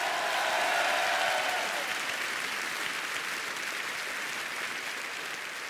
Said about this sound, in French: un tonnerre d'applaudissements pour Abdoulaye